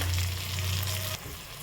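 Onion, garlic, coriander and cumin sautéing with a little turmeric in a pan, a steady close sizzle that carries on for about a second before dropping abruptly to a quieter hiss.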